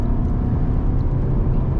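A 2022 Mercedes C-Class with 4MATIC accelerates out of a corner, heard from inside as a steady, close low engine rumble and road drone with no talking.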